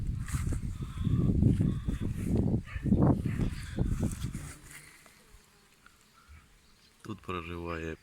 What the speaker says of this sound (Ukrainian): Робочі бджоли вже літають.